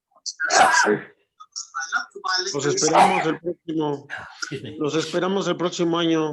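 A single sharp sneeze comes at the start during the close of an online international literary colloquium, followed by several people talking.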